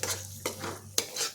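A spoon scraping and stirring masala with cashews and a little sugar in a pan, three sharp scrapes over a soft, steady frying hiss, close and clear.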